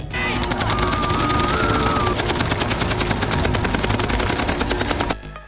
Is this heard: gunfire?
yes